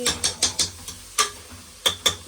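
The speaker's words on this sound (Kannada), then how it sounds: "ಸೊ ಇದನ್ನು ಫ್ರೈ ಮಾಡ್ಕೊಳ್ತಾ ಇದ್ದೀನಿ" Carrots for carrot halwa being stirred in a pan give a series of short, sharp scraping clinks at uneven intervals, close and fairly quiet, over a soft background hiss.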